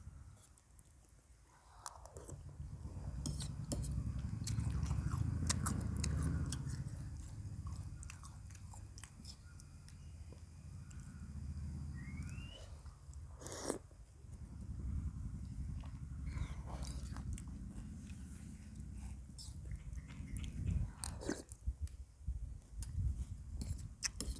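Someone eats a big bowl of kuay jap noodle soup, with close chewing, biting and slurping sounds repeating steadily over a low, busy background for about 24 seconds.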